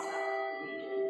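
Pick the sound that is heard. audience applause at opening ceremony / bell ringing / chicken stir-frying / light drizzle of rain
bell ringing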